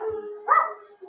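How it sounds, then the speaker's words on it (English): Dog barking upstairs in a house, one short muffled bark with a whine, distant and alone. "I don't know if you can hear my dogs barking upstairs."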